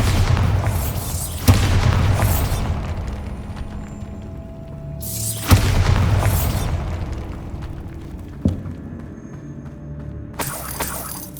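Bombarda spell blasts in the video game Hogwarts Legacy, two loud booming explosions with shattering debris, each fading into a rumbling tail, followed by a smaller pop near the end.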